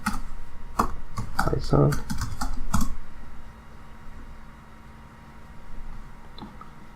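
Typing on a computer keyboard while setting up the Atom editor on Linux, a short burst of close key clicks under a spoken word, then fading into quiet room tone.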